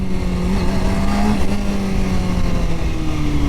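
Motorcycle engine droning steadily close by, its pitch dipping and rising slightly as the throttle is blipped during a downshift, with no speech.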